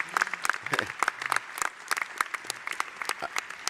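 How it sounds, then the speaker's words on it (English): Graduating students at a medical school commencement ceremony applaud their families with close, crisp clapping in a lively, uneven patter, while a voice speaks briefly over the applause. "turn to your family members and give them a round of applause"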